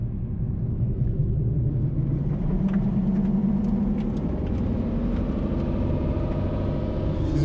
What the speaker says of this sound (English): Burnout happening. Kind of looks like a one wheel peel.